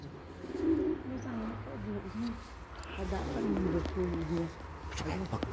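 Pigeons walking around a park bench give soft, repeated low coos close by, mixed with people talking over them.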